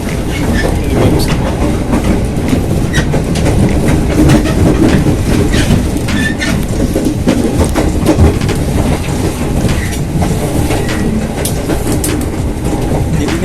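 A Jabodetabek Commuterline train rides the rails toward Tanah Abang station, heard from inside as a loud, steady rumble with a clickety-clack of wheels over the joints and occasional squeals.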